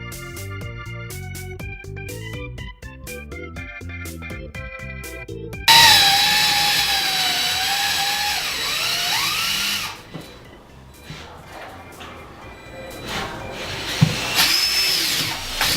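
A power drill bores into a stone wall behind a stud, first as a rapid stuttering rattle of impacts, then as a loud continuous whine that pitches down under load before easing off near the end.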